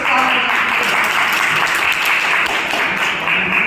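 Sustained applause from an audience at a district-level multimedia quiz competition, loud and even throughout with no break in the clapping.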